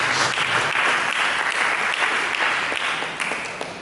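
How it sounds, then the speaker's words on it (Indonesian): Congregation applause in a church service, a dense, steady wash of clapping from many hands that tapers off slightly toward the end. "Mari kita berikan tepuk tangan bagi Yesus Kristus."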